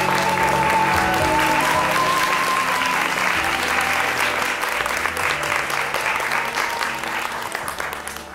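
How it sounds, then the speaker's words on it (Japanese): An audience in a hall applauds steadily to welcome a speaker at a peace lecture in Nagasaki, a dense, loud clapping with a faint tone early on, tapering off toward the end. "それでは皆様どうぞ盛大な拍手でお迎えください。"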